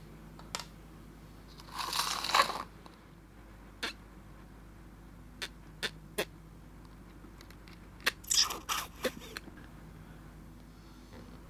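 Small crinkling and tapping sounds come from poking inside a drilled eggshell to break up the yolk: a few brief scratchy bursts and scattered sharp clicks, close and quiet, with no talking.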